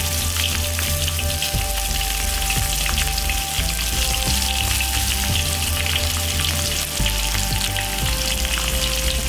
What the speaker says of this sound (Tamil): லேசாக பொரி வருதுங்களா, அதில் வெங்காயத்தை நறுக்கி வச்ச வெங்காயத்தை